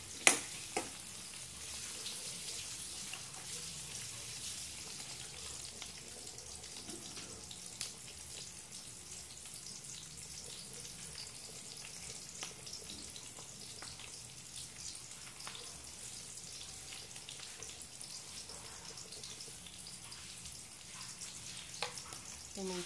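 Garlic sizzles quietly in a pan as part of cooking adobong pusit, a soft, steady crackle with occasional scrapes and clinks, heard alone and close.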